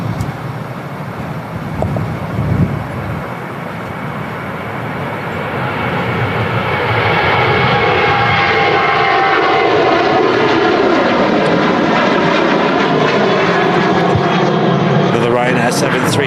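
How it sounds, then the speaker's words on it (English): A 2009-built Boeing 737-800 departs Manchester Airport for Nantes, its jet roar building steadily to a loud, sustained rumble, with a voice faintly over it early on. "That one's heading off to Nantes, 737-800."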